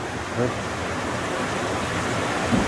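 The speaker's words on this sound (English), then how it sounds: "The power of water right here." Water rushes steadily at an old mill in Elkhart County, Indiana, a broad, even wash of noise that stays close and constant throughout with no clear breaks.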